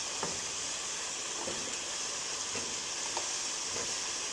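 Potatoes going into a hot pressure cooker pot for beef stew, a steady soft sizzle and hiss with a few faint knocks and clatters spread through it, no talking.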